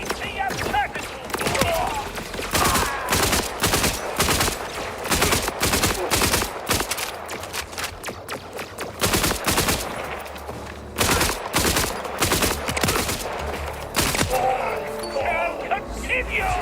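Video game gunfire from a firearm, fired in steady rapid bursts of sharp, close, loud shots that repeat throughout with short pauses, while a person talks over the shooting.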